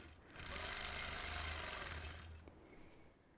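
Sewing machine running steadily during freehand quilting of an orange peel pattern, a close, continuous mechanical whir lasting about two seconds before slowing and fading.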